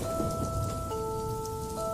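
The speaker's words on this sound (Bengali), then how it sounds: "কিছু সময় পর থেকেই মুষলধারে বৃষ্টি শুরু হয়" Steady heavy rain pours down continuously, a dense broadband hiss with a faint low rumble, while a few sustained tones run through it.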